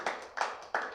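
Three sharp claps ring out in quick, evenly spaced succession during a church service honoring Reverend Ulrich, crisp and fairly close with a quiet room behind them.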